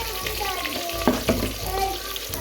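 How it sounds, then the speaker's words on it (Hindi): Onions sizzling in ghee in a pan, a steady close frying hiss with a couple of brief knocks of a spoon against the pan partway through. "इसी घी में हम प्याज डालेंगे"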